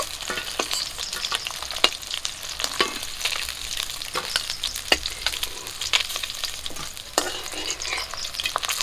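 River fish frying in oil in a pan, a continuous close sizzle broken by frequent sharp stirring and spatula clicks, no voices.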